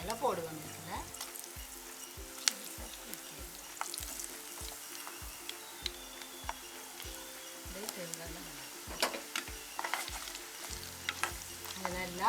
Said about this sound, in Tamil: இப்போ நல்லா எண்ணெய் கொதிச்சிட்டு நல்லா கொதிச்சா பிறகு நாங்கள் இந்த முருங்கைக்காயில் போடுவோம்